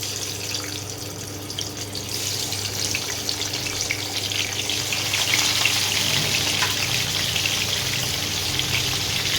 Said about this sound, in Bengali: এবার আমি মাছগুলোকে আস্তে আস্তে ভেজে নেব।